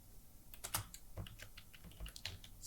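Typing on a computer keyboard while entering text with the text tool in Adobe Premiere Pro: irregular bursts of close, crisp keystrokes with short pauses between them, and no talking.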